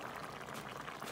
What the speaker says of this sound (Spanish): Le agregamos el serrano licuado con poquito consomé de pollo y agua.